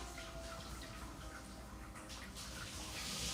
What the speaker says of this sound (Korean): 여기서 샤워하니까 샤워 소리 다 들리잖아.